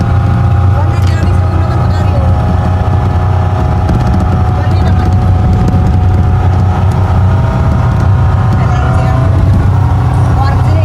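A motorboat engine drones steadily and loudly on a boat trip out to Sumilon Island in Cebu, a constant low rumble with wind and water noise throughout, and people can be heard talking over it.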